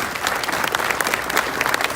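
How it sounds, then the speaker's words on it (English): At a South Houston High School ceremony for educators and students, a crowd applauds with a thick, continuous wash of clapping, loud and steady for the whole stretch. "how about a round of applause for all of our educators and students here tonight"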